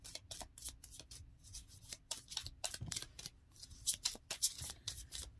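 Tarot cards are shuffled close by in quick, papery riffling bursts. The rhythm is uneven, with the soft shuffles set against a quiet room.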